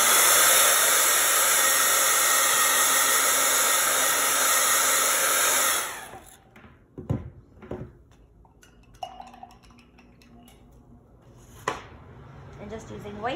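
A hair dryer blows loudly and steadily on painted craft work, a constant whooshing roar lasting about six seconds before it switches off, followed by quiet clinks and handling sounds.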